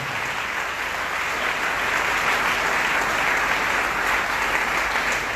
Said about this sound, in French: On va applaudir mon Dieu parce qu'il permet nous là matin.